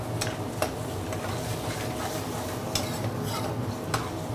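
Lamb hits a hot pan in a restaurant-style kitchen, giving a steady close sizzle and frying hiss with a few sharp clicks of a utensil stirring against the pan, no speech over it.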